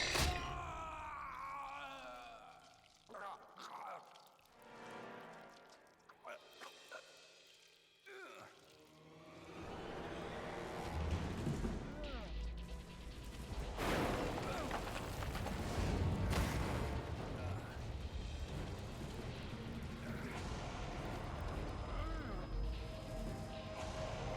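Rocket launcher blasts and explosions from the survival horror game The Evil Within: a quiet, sparse start gives way to sustained loud, dense booming and crashing roughly halfway through, continuing steadily to the end.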